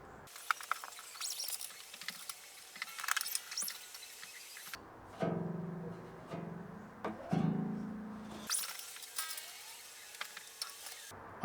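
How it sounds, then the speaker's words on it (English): A guitar nut being filed down during a setup with junk strings fitted, giving quiet, close scraping and light ticking in short uneven bursts with pauses between, and no talking. "I'm adjusting the nut action to where I want it."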